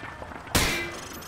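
A single sharp rifle shot through a wood panel in the Call of Duty Modern Warfare 2 training scene, a loud close crack with a metallic ring that decays over low ambient noise.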